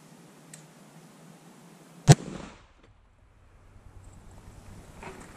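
A single sharp 6.5 Creedmoor rifle shot firing a 130gr Sierra GameChanger bullet into ballistic gel, loud and close, with a short decaying echo afterward amid quiet outdoor background noise.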